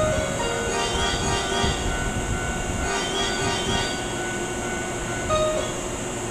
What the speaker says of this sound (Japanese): まもなく5号線に京都田原町方面に向かう電車が到着します